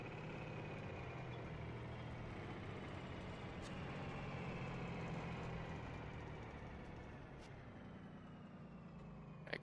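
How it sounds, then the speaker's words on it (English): A vehicle engine drones steadily in the Rigs of Rods driving game, a low continuous hum that swells slightly midway and then eases, fairly quiet with no talking over it. "It's so hard to hear with this engine."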